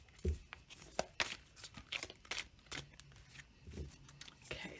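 Oracle cards being shuffled close by: quick papery riffles, taps and crinkles in irregular bursts, fairly quiet.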